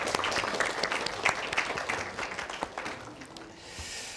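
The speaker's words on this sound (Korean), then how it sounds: "서로에게 뭔가 축하하고 감사하다는 의미로 박수 한번 치고 시작하면 좋을 것 같습니다" A group at an award ceremony interview applauds together, a burst of close, sharp handclaps that thins out and fades toward the end.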